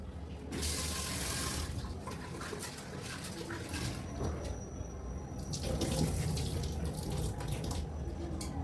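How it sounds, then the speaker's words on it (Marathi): Steady running tap water splashing into a bowl, with soft sloshing and rattling as toor dal is rinsed by hand, continuous for several seconds with no talking. "एक वाटी तुरीची डाळ घेतलेली आहे निवडून ती पण टाकते धुवून घेते"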